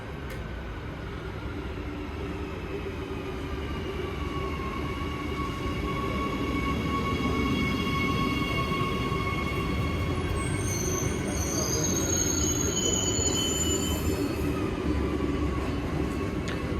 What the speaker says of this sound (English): And that's our train.